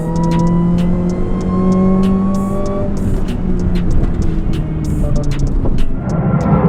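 A car fitted with a Sprintex supercharger kit revs loudly and close, its engine note rising and falling in sweeping pitches with a supercharger whine, alongside sharp rhythmic ticks.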